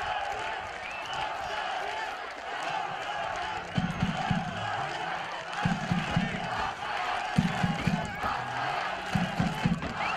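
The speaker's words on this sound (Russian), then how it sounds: "Оживились трибуны уральского стадиона. Болельщики начали живо поддерживать и скандировать свои имя." Football supporters in the stands of an Uralsk stadium during a Kazakhstan Premier League match, Akzhaiyk against Aktobe, keep up a steady crowd roar with rhythmic chanted bursts repeating every second or two while a commentator talks over them.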